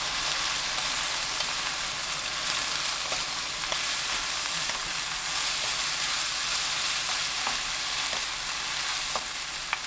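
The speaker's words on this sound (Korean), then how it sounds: "양파 넣고 볶아주세요." Onion stir-fried in a pan with thinly shaved pork belly and eggplant makes a loud, continuous sizzle, with faint scrapes and taps of a utensil now and then.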